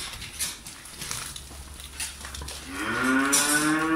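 Dairy cows low in a barn with a fresh-calved cow nearby, a faint moo early on giving way to a loud, drawn-out, close bellow over the final second, against low barn background noise.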